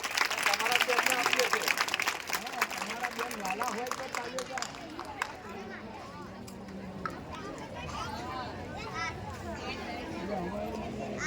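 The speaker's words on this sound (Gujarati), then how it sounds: "તાળી પાડવામાં કંજુસાઈ કરવાની." A school annual function crowd applauds with loud, dense clapping that fades to scattered claps, with chatter and children's voices mixed in.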